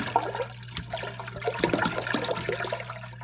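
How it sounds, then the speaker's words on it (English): A gallon of fresh water pours steadily into a container to make a ham brine, a continuous close splashing and gurgling stream with a low hum beneath and no speech. "1 gallon of fresh water. And so that is going to make up our brine, and that's what the ham is going to sit in."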